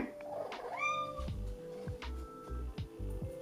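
A pet cat named Klaus gives a loud rising meow close by, followed by soft rhythmic low thumps and faint background noise.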